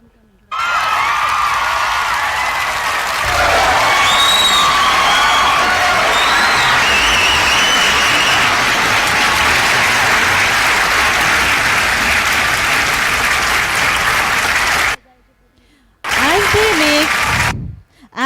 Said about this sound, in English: Let's celebrate their hard work and cheer them on as they march with pride.